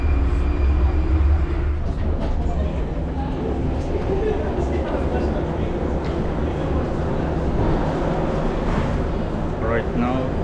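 Prague subway train carrying riders, with a steady loud rumble of wheels and motors and faint squeals and rattles throughout, no clear speech.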